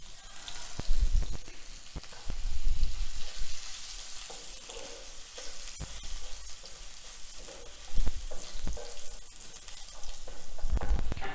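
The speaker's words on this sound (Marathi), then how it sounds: "आपलं तेल गरम झालं की त्यामध्ये जिरा घालायचा जिरा थोडा जास्त घालायचा त्याचबरोबर जे आपण अल्लं खिसून ठेवलेलं आहे ते घालायचं" Cumin seeds and grated ginger sizzle and crackle in hot oil in a pan, a steady close frying hiss with occasional stirring scrapes and bumps and no talking.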